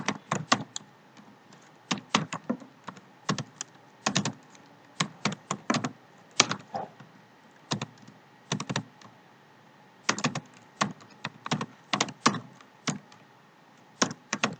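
Computer keyboard clicks in quick, uneven clusters as Python code is typed, close and clear against a quiet background with pauses between bursts.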